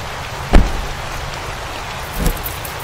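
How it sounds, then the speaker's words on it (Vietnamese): Heavy rain falls outside in the Chilla's Art night-security horror game, a steady hissing downpour with two duller thumps standing out against it. "Bên ngoài trời mưa khá là to."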